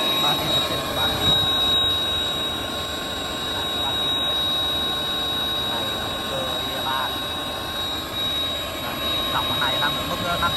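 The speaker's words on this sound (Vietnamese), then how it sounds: "máy con sò dùng hút chân không. Dòng này thay thế cho máy hút chân không" A Saverti SB620-3700S4 ring blower with a 7.5 motor runs steadily as vacuum suction for a CNC table, giving a loud continuous roar and high whine while someone talks over it.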